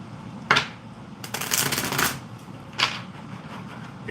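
A deck of cards being shuffled for a psychic reading, with a quick riffle, a longer sustained riffle burst, and a final short riffle, close and clear with no talking.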